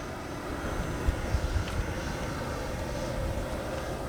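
FMS Super Scorpion V2 RC jet in flight, a steady distant broadband whoosh of its ducted-fan motor that holds level throughout, with a few soft thumps near the middle.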